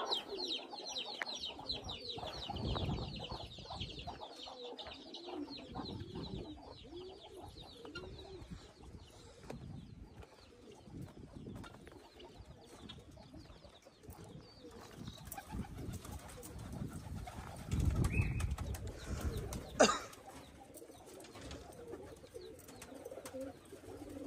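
Chickens and pigeons roam freely on a farm, soft repeated cooing and occasional clucks at moderate distance against a quiet outdoor background, with a brief sharp knock near the end.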